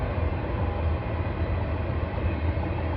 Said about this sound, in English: it's really loud because it's on a train trestle above the neighborhood